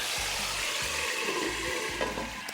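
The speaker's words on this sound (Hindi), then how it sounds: "गर्म करना है और उसमें हम डालेंगे छिट्टा किस चीज़ का? लहसुन के पानी का।" Garlic water splashed into hot mustard oil in a pan while cooking chicken korma, giving a continuous loud sizzle and hiss with a few low thumps, no voices.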